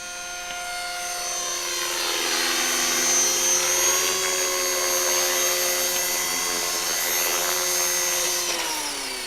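A radio-controlled model helicopter flies overhead with a loud, steady, high-pitched turbine whine and rotor buzz that rises and falls in pitch as it moves, continuous throughout with no talking.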